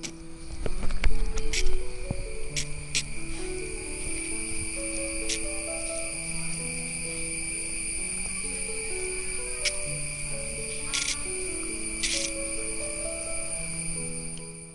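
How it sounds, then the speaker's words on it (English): Insects trapped inside carnivorous pitcher plants buzz with their flapping wings, giving a thin, continuous, steady drone with scattered clicks. It goes on for about fifteen seconds over a soft background, with no talk. "It's actually coming from the flapping wings of those insects that have been trapped by the pitchers."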